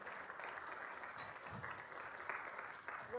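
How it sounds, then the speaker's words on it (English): Audience applause at a spring piano recital, a steady moderate patter of clapping from a small crowd running throughout, with a few sharper claps standing out near the end. "let's give them a round of applause"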